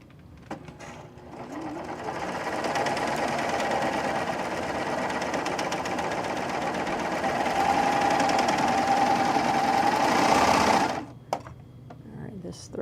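A sewing machine runs a steady, continuous stitch on a sample of lining for boys' shorts, loud and close for about ten seconds before stopping abruptly, followed by brief handling noises.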